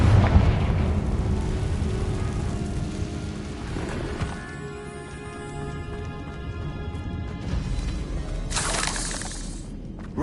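Confringo fire spell exploding in a cave in Hogwarts Legacy, a loud boom opening into a long shattering, crumbling rumble with a second burst of crackling debris near the end.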